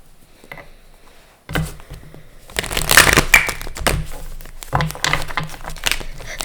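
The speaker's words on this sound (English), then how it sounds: "That was not a very good shuffle." Tarot cards are shuffled in quick, loud, close riffling bursts after a quiet start, with crisp papery rustles and taps repeating in uneven waves.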